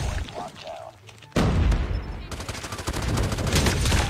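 Rapid bursts of gunfire from the Saber 4 weapon in a shooter video game, loud and sustained after a brief lull, with a voice talking faintly underneath.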